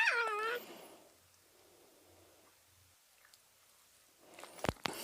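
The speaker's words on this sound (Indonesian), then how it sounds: "itu kucing saya mengganggu mulu tuh" A house cat meows close by at the start with a short rising call, then everything goes quiet before some brief handling noises and clicks at the end.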